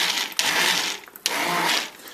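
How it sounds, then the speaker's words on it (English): An immersion blender whirs loudly through callaloo and bean soup in two close bursts, with a short pause and a quick restart between them. "I've got my immersion blender here,"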